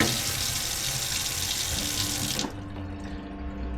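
Hot water pours from a new tap on a sailboat in a steady close rush, then cuts off sharply, leaving a faint residual trickle.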